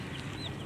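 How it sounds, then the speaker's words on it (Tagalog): A small chicken gives a single short cluck, close and clear over a light background murmur. "yung maliit na manok"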